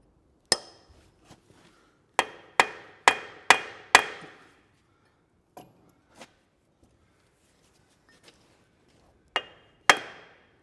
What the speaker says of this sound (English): it's very hard when using a hammer to not